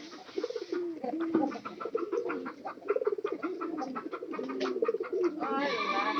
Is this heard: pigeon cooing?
yes